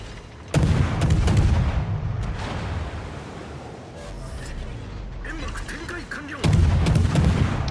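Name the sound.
naval guns firing in a warship video game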